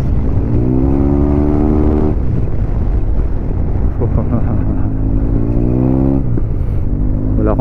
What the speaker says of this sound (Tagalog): Ganda din ang tunog nung Akrapovic full exhaust system